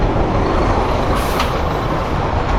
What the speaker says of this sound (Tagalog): Maraming truck.